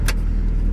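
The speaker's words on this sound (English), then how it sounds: "So now we're in the good car, and we're going to go ahead and start it up." A car engine catches with a brief burst and settles straight into a steady, low, close-up idle rumble, the healthy donor car in a jump-start setup.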